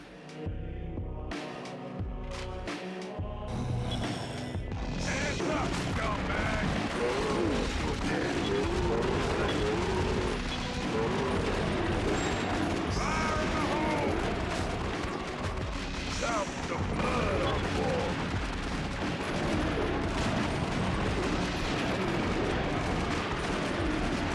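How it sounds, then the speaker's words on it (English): Pistol gunfire in the video game Twin Caliber rattles in dense, rapid bursts over loud explosions and game noise, continuous and close throughout. "I'm using the pistol so we can still hit him from range somewhat"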